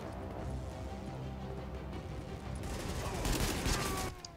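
Rapid gunfire crackles from a video game set in Grand Central Station, a dense burst of automatic shots swelling loud in the second half over a constant background rumble.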